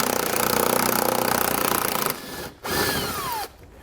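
Power tool spinning out a 10mm head bolt from a 2020 Jeep fender liner, a loud close whir for two seconds, then a brief pause and a second shorter burst.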